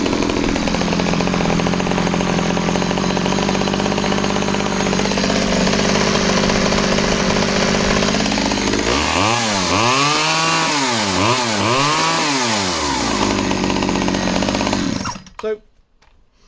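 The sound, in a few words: 009 chainsaw with 13-inch bar running after restart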